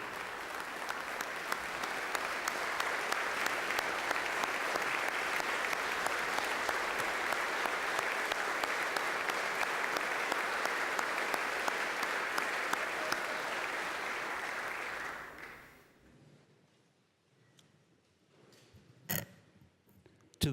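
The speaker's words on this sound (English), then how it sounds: "let's give Flo Fabrizio at least another round of applause" Sustained applause from an audience in a legislative chamber for Flo Fabrizio, loud and dense for about fifteen seconds before fading out to a few scattered claps.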